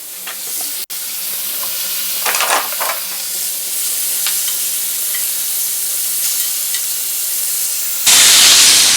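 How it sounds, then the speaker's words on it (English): Bacon sizzles steadily in a frying pan, a continuous close crackle and hiss with a few louder pops and bursts, ending in a sharp rush of brighter sizzle. "bacon's on. You can hear it sizzling."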